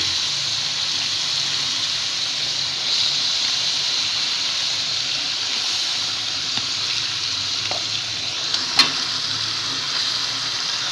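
Chicken pieces tipped into a pan of cooked spice paste for chicken curry fry with a steady, close sizzle, a few soft stirring clicks and knocks breaking through near the end.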